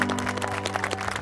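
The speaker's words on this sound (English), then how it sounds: "Let's have some applause." Wedding guests at an outdoor ceremony at Long Hollow Gardens in Gallatin, Tennessee clap right after the couple is pronounced husband and wife: a dense, steady wash of many hands, fairly close, with a low tonal hum underneath throughout.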